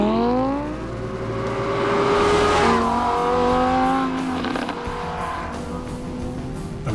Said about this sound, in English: Lamborghini's latest creation is ready to attack the track